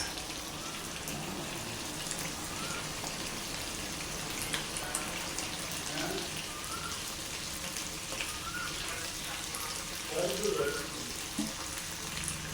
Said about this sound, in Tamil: வறுத்துக்கிட்டே இருக்கிறேன்டா.